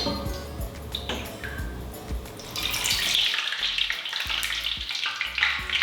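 Very hot oil ladled from a skimmer over a piece of pork belly in a wok, a loud continuous crackling sizzle that swells sharply as the oil hits, with pouring and dripping underneath.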